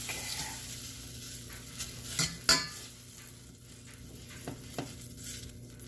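Margarine melts and sizzles in a pan, a soft continuous frying hiss broken by several sharp metallic clinks and scrapes of a utensil against the pan; no one speaks.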